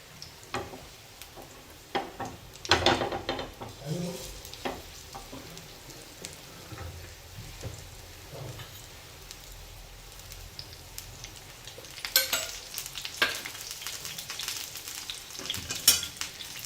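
Batter-coated colocasia leaf sandwich frying on a griddle, with a steady oil sizzle throughout and occasional scraping as it is turned with a spatula.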